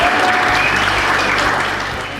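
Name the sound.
applause for the festival director and founder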